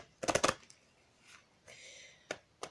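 A tarot deck being shuffled close by, a quick burst of rapid card riffles followed by a few soft, scattered slaps and flicks of cards in a quiet room, with no voices.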